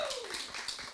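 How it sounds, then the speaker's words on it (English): Brief clapping from a small group at an Ameristaff staffing event, a quick patter of hands under a wash of room noise. "Clap on that."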